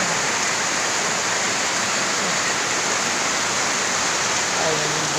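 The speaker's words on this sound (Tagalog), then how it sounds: "malakas ang ulan." Heavy rain falls hard beside a house near a rushing creek, a loud unbroken roaring hiss that fills the whole stretch.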